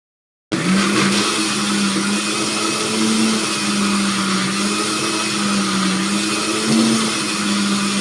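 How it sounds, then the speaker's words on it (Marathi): A mixer grinder blends mango pulp with sugar and cardamom, its motor kicking in after a brief silence and then whirring loudly and steadily without pause to the end. "हे सर्व मिक्सरमधून फिरवून घेऊ."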